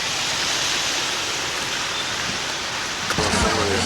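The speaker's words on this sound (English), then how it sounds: "It's still raining." Rain falling at an outdoor heritage day festival in Ohio, a dense, steady hiss of broadband noise, close and fairly loud, with a brief bump and a faint voice near the end.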